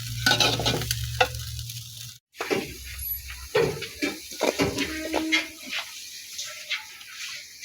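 Potatoes frying in a home kitchen pan, a crackling sizzle broken by stirring scrapes and clatter, with a brief dropout partway through and a voice faintly heard at moments.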